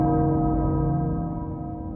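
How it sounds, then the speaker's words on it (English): A castle bell in Resident Evil Village tolls once, its long humming resonance ringing out steadily and slowly fading, close and fairly loud with no voices over it. "The castle bell heralds danger."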